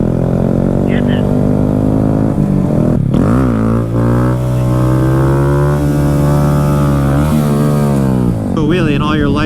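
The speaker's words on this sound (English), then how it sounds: "I'm gonna get in front of all these motorcycles because I'm so fast off the line" Small motorcycles riding through town rev and drone with rising and falling engine tones, loud and close, while people talk over the noise.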